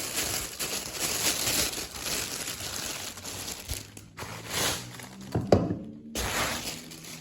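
Close crinkling and rustling of a plastic bag unwrapped from a Canon EOS R5 C camera, irregular handling noises with a few sharper crackles and brief pauses.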